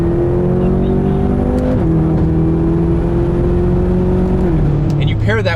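A BMW M6 Gran Coupe with a twin-turbo 4.4 liter V8 pulls hard from inside the cabin, its engine tone rising steadily and stepping down at gear shifts, loud and continuous with a voice talking over it.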